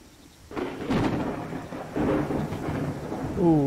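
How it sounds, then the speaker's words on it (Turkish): Rain and thunder in the viking village-building game Land of the Vikings, a steady wash of rain with low thunder rumbles swelling twice, under faint game music tones near the end. "Yağmur."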